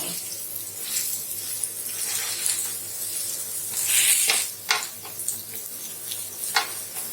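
A capsicum omelette frying in oil on a pan, giving a steady soft sizzle with brief louder hissing bursts as it is pressed down.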